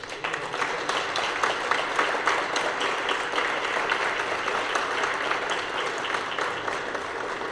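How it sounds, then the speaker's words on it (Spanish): An audience at a university award ceremony breaks into sustained applause for a speaker, a dense, even wash of many hands clapping across the hall for several seconds. "Por favor, recibámoslo con un aplauso."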